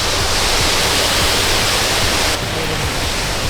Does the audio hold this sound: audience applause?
no